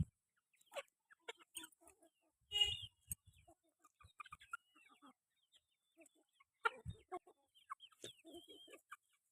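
Backyard hens clucking in short scattered bursts, faint to moderate and close by, with quiet gaps and someone speaking now and then.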